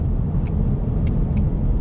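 A 2020 Ford Mustang EcoBoost cruising down the highway, heard as a smooth, steady low road and engine rumble from inside the car, with no talk.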